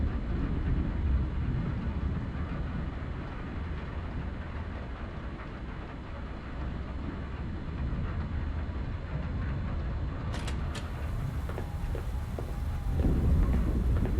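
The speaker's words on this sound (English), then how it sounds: "Thunderstorm?" A thunderstorm in the video game Kentucky Route Zero, a sustained low rumble of rolling thunder and rain-like hiss, swelling slightly near the end, with a few faint crackles.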